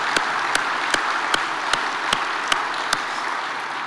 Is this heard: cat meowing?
no